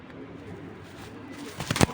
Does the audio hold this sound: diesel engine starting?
no